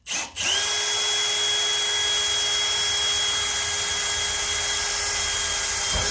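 A power drill bores holes into the cab roof of a second-generation Dodge truck, starting with a brief spin-up, then a steady, loud whine held continuously for several seconds, close by.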